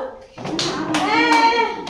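Children clap their hands during a group game activity, a few short sharp bursts under and between a voice speaking close by.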